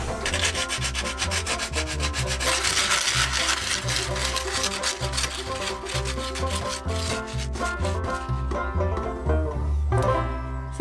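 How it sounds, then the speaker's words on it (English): Sanding the rough edges of a repaired shower basin at a camp produces a rapid, rhythmic scraping rub, loud and close, repeating in steady strokes for about ten seconds without speech. "just a bit of sanding to remove the rough edges."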